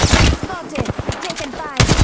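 Apex Legends gunfire, rapid bursts of automatic shots in quick irregular volleys, loud and close, mixed with game effects and brief voice lines.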